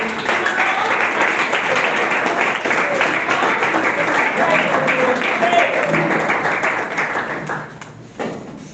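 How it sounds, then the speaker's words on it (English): An audience at a pharmacists' summit applauds a speaker with continuous, dense indoor clapping and some voices mixed in, fading near the end before a brief final burst. "Please clap on till she sits down"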